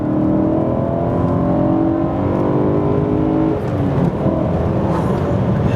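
A BMW E92 M3 engine revs at half throttle, a loud, continuous motor drone with climbing pitch that dips briefly midway before pulling up again, with no talking over it.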